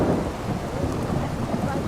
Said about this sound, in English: Looks like maybe a lightning strike or something.